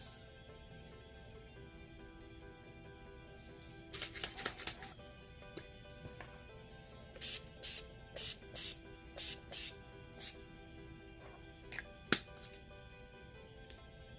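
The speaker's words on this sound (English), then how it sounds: "I'm going to set everything with some setting spray from Urban Decay" Short misty spritzes of Urban Decay All Nighter makeup setting spray, a few quick bursts, then a run of about six evenly spaced pumps, close and fairly soft.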